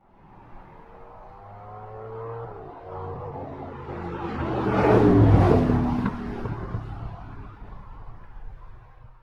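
A V8Creative Ultima RS sports car is heard from outside as its engine note builds from a distant hum to a loud, roaring pass, peaking midway, then receding and fading off.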